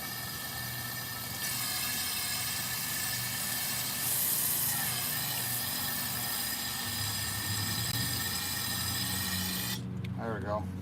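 Brake cleaner sprays steadily from an aerosol can onto a Prius engine during a head gasket job, a continuous loud hiss running for about ten seconds before cutting off, with brief talk at the end.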